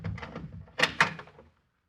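A door opens in a radio drama with a couple of sharp thunks and creaks that stop abruptly into silence, preceded by a brief murmur.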